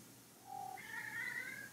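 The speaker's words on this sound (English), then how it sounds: "here comes my cat" A pet cat indoors gives a short meow followed by a longer, higher drawn-out meow, faint and close by in a quiet room.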